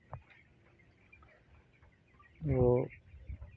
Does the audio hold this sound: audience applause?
no